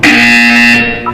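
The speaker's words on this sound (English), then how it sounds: "You will hear a buzzer." Electronic buzzer in the video game Portal 2, a single loud, flat, sustained tone about a second long that cuts off abruptly.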